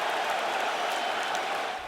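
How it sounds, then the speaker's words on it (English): A Toronto basketball crowd cheers at a game, a steady, dense roar of many voices held at an even level throughout. "Many in the Toronto crowd immediately cheered his injury."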